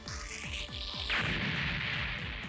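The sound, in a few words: long barrel cannon firing in the Gundam video game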